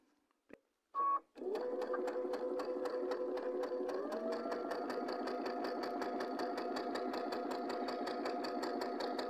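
A sewing machine stitches a quilt block, starting after a few soft clicks of positioning, then running in a steady, fast, even mechanical rhythm at close range with a constant hum throughout.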